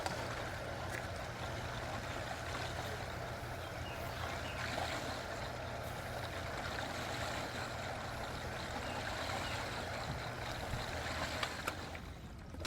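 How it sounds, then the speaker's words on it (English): A 2HP dual-speed AQUASTRONG pool pump for an above-ground pool runs while priming, a steady, fairly quiet hum with a low motor drone and churning water wash, no talking. "So I'm going to go ahead and turn this on real briefly here. Make sure it gets good and primed."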